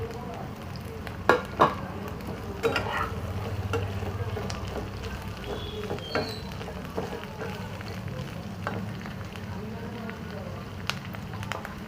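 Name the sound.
onion and capsicum frying and stirred in pan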